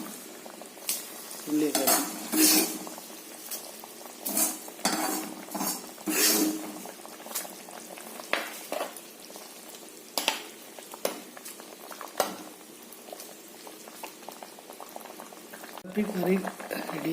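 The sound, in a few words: fish curry boiling in a pot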